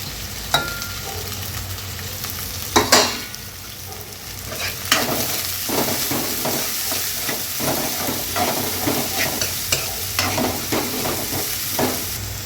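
Onion and green chilli frying in hot oil, a continuous close sizzle with soft steamy hiss, punctuated by occasional stirring scrapes and a few sharper crackles, no talking.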